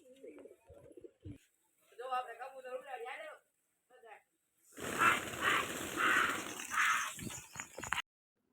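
Pigeons coo in a soft, repeated burst close by, following a stretch of indistinct human voices and rustling.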